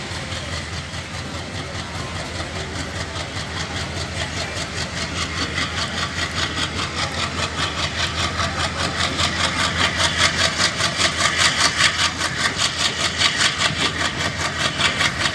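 A train's engine runs as the train pulls away from the station, a steady low rumble with a rhythmic pulsing that grows gradually louder and faster over about fifteen seconds, heard from on board.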